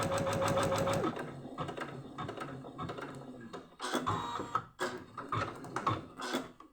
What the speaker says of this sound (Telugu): మనం మార్కింగ్ వేసిన విధంగానే ఫ్రంట్ పార్ట్ అనేది స్టిచ్చింగ్ చేస్తుంది